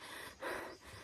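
Close, quiet breathing with one strong, rough exhale in the middle, like heavy panting after effort; no speech.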